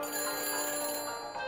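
A telephone rings after a number is dialed in a Back to the Future video game, a steady, loud electronic trill that fills the whole moment.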